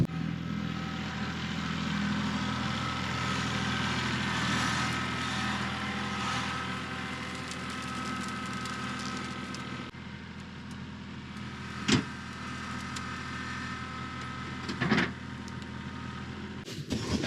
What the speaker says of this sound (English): drive the tractor up here, put the box blade down, and start pushing it